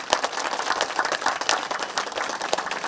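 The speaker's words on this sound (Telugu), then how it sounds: "మన గురువు గారు బ్రహ్మర్షి సుభాష్ బద్రి గారికి ఒకసారి గట్టిగా క్లాప్స్ కొద్దాం" A crowd at a spiritual gathering claps loudly for their guru, dense rapid hand claps continuing throughout without a break.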